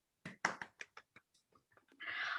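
Scattered claps from a small group applauding game winners, a handful of sharp, uneven hand claps that trail off, then a short burst of louder rushing noise at the end.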